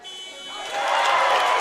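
An electronic end-of-quarter buzzer at a girls basketball game sounds loud and sustained, a steady tone that swells slightly over about a second and a half, with crowd noise underneath.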